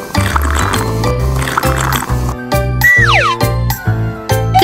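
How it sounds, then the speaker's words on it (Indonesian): Cartoon splashy pouring and gurgling of dirty water being emptied in a children's dentist video game, bright liquid blips and a falling boing-like swoop over light game music. "Buang air yang kotor."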